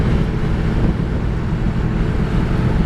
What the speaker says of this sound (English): I know this is a windy test drive. I apologize for all the noise.